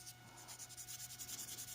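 A worn sanding stick rubbing a seam line on a plastic model, with quick, rhythmic back-and-forth scratchy strokes, close but faint.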